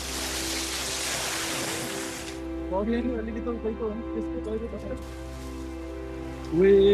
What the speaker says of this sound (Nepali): हामीले उत्तर गङ्गा नदी बगिरहेको देख्यौं।